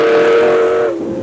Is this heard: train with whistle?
yes